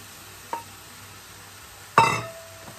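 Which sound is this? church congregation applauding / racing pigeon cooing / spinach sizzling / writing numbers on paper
spinach sizzling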